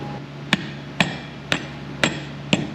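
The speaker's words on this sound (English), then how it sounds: "Make sure you get some grease on it, and then I'm gonna beat it in." A hammer drives a socket to seat a driveshaft support bearing on a BMW E46 M3, striking five evenly spaced, sharp metallic blows about half a second apart at close range.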